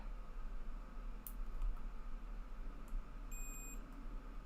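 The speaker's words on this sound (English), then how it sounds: "I push the button, we should hear a beep" Short continuity-mode beep from a multimeter, a thin steady electronic tone held for about half a second near the end over a faint background hum.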